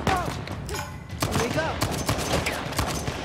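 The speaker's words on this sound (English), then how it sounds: "Fireworks!" Rapid bursts of explosions in Uncharted: The Lost Legacy, a propane tank going off like fireworks amid gunfire, sharp cracks scattered through three seconds at steady loudness.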